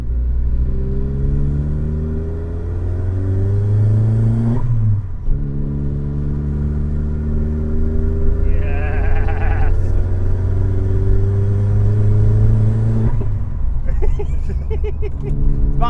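A diesel van with a Z20LET turbo engine swap revs loudly and steadily, the pitch rising in long sweeps, dropping briefly around five seconds, then climbing again before easing near the end, close and continuous with no speech over it.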